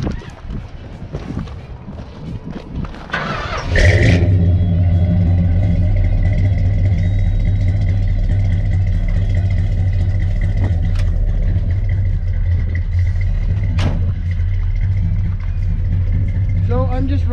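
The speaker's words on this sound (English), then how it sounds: "I'll give her a quick fire up here, and we'll let you guys listen to the chop" A Dodge D200 camper special truck with a 383 big block V8 cranks and fires up, then settles into a loud, steady, rumbling idle with a choppy cam note through a 2.5 inch exhaust with turbo mufflers.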